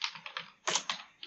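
Rapid bursts of typing on a computer keyboard while entering a command to launch Blender, clattering keystrokes in quick uneven clusters, close and clear with no talking.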